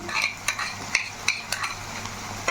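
A ginger, garlic and cumin paste is stirred into onions frying in oil, giving a continuous sizzle broken by repeated spatula scrapes and taps against the pan at a steady rhythm.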